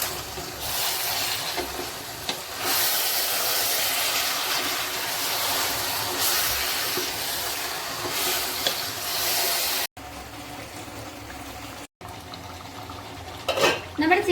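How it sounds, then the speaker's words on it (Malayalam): A spoon scrapes and clanks against a pot while chicken curry is stirred on the stove, steady hissing and clattering for several seconds, then quieter bumps at the end. "ഇളക്കി കൊടുക്കണം."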